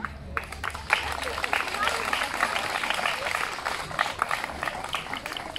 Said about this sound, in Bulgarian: Искам да чуя вашите аплодисменти за тях.